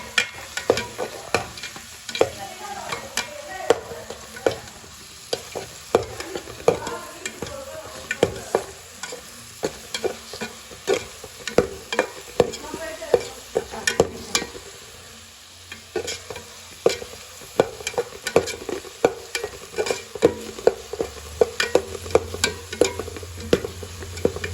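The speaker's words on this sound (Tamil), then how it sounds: "இதை வதக்கிட்டு தக்காளி போடலாம்." Onions sautéing in a pan ahead of a crab curry, a steady sizzle broken by frequent sharp scrapes of a spoon stirring against the metal, close and fairly loud throughout with no talk.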